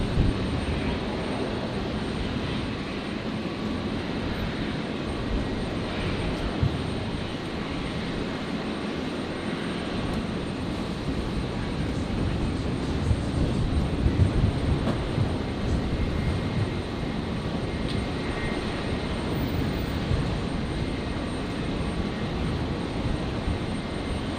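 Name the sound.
aircraft at Brisbane Airport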